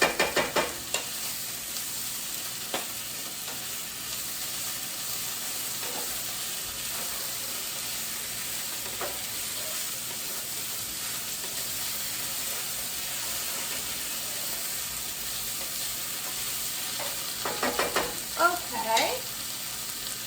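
Orzo being stirred in a hot pan as it sizzles and steams, a steady frying hiss running throughout with a few louder scrapes and clatters near the end; a voice speaks briefly at the start.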